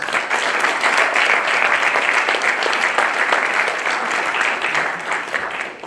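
A room full of people at a high school honor society induction applauds, steady dense clapping that holds for several seconds and fades slightly at the end.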